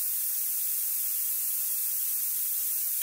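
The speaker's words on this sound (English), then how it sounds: "you're going to get a few seconds worth of spraying before the motor kicks back in" Steady hissing rush of a compressed air spray gun spraying, continuous and even from start to finish, with no other sounds.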